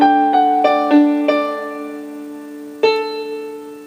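Low bass notes on a piano from a song, several notes struck within the first second and a later one, each ringing long and close with no voices.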